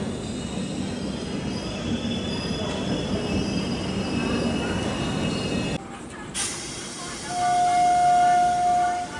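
The Visakha Express rumbles past with a dense roar of wheels and squealing rails, then cuts off abruptly into quieter sound with a short high whine and a louder swell toward the end.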